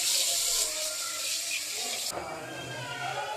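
Water splashes steadily onto peeled garlic cloves in an outdoor village cooking setting, loud and close for about two seconds before easing into a softer trickle.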